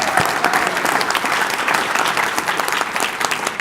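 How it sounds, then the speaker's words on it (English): An audience at a business event applauds a family company marking its 100th year. Dense, even clapping fills the room at a steady level with little else heard. "can I get a round of applause for being around for 100 years?"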